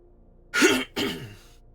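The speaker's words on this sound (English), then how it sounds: "I just cannot clear my throat for like an hour to get started" Two close, short throat-clearing rasps, the first harsher and the second a softer follow-up, heard alone in a quiet room.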